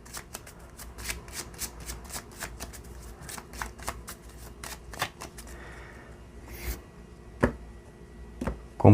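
A Gypsy tarot deck is shuffled by hand, a rapid series of crisp card riffles and flicks repeating close up for several seconds, with a few louder taps near the end.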